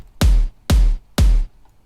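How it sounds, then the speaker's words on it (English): A full electronic kick drum built from a basic bass drum layered with a top bass drum, in a drop style, hits three times in an even rhythm, each punchy and booming with a quick decay. "The full kick sounds like that."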